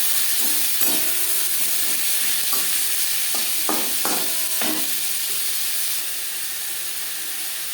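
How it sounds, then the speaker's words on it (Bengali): Onions and tomatoes fry in hot oil in a wok used earlier for frying fish, giving a steady loud sizzle and hiss with several short stirring scrapes and clinks, no one speaking. "মাছ ভেজে নেওয়া কড়াইতে আবারও তেল দিয়েছি দিয়ে দেব পেঁয়াজ টমেটো"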